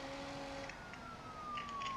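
A police car siren in the driving game BeamNG.drive, a steady wailing tone gliding slowly downward in pitch over continuous engine and road noise, fairly quiet and without speech.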